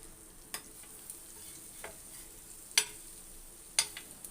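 Masala-coated eggs fry gently in a pan. A faint, steady sizzle is broken by a few sharp clicks and taps spaced irregularly.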